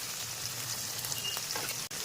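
Chopped onion with turmeric, salt and a little sugar sizzling steadily in a hot pan for a crab and potato curry, a continuous close hiss with a brief knock near the end.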